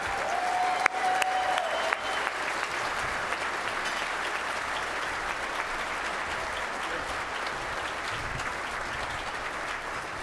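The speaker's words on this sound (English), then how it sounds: "Big round of applause for Ray Bourque." A breakfast-event crowd gives Ray Bourque a steady round of applause, a dense and even wash of clapping that holds at a consistent level for about ten seconds.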